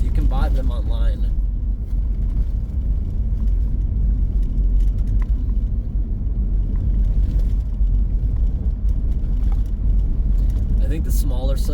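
Inside a car driving past tamarack trees, a steady low engine and road rumble fills the whole stretch, with a voice briefly talking near the start and end.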